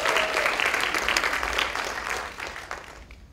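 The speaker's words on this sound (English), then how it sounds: "Let's give Janice a giant round of applause" An audience at a motivational improv show breaks into applause, a dense wash of clapping that starts loud and gradually thins out over a few seconds.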